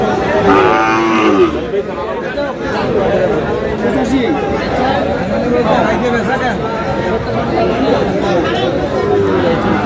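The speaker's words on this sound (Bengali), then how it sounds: "শাহিওয়ালের ষাঁড়।" A seven-month-old Sahiwal bull calf moos loudly in a few drawn-out calls near the start, while people talk and bargain around it throughout.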